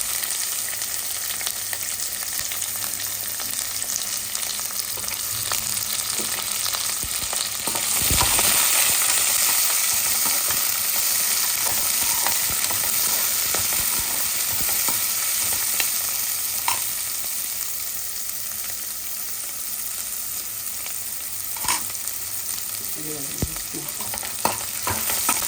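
Onions and green chillies fry in oil in a pan, a loud, continuous close sizzle with frequent scraping stirs and occasional clinks of the spoon throughout.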